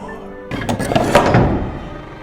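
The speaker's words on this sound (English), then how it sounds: "Open the door." A door in an animated film opening with a dull thunk and a brief rattling creak, close and fairly loud, fading out quickly.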